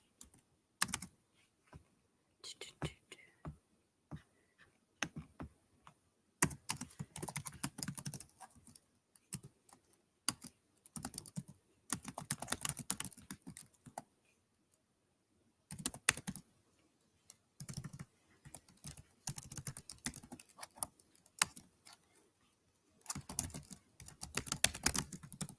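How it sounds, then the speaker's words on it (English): Typing on a computer keyboard comes in close, irregular bursts of rapid key clicks separated by quiet pauses, with no voices. "I'm just typing this up."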